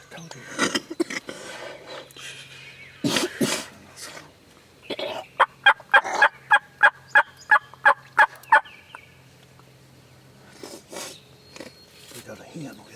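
Wild turkeys on Tennessee public land during a youth hunt, a rapid series of about ten loud, rattling gobbles at fairly close range, with hushed voices talking before and after.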